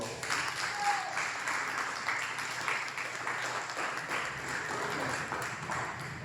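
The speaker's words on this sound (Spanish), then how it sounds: "Vamos a dar un fuerte aplauso al Señor" Steady applause from a church congregation fills the whole stretch, a dense continuous patter of clapping at moderate volume.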